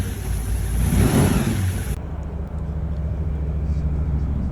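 An LS V8 engine in an Australian Ute revs hard and loud up close, building to a roaring peak before dropping to a rough, lumpy idle, with no talking over it.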